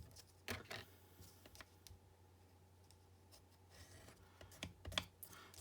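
Paper cardstock creased along fold lines on a scoring board, heard as a series of sharp, irregular scraping clicks and taps close up, with quiet gaps between bursts.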